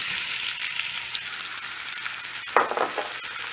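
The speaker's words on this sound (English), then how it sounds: "Now I'm going to add this chopped red onion." Chopped red onion fries in hot oil with cumin seeds, dry chili and fennel seeds, a steady close sizzle with a short stir and scrape partway through.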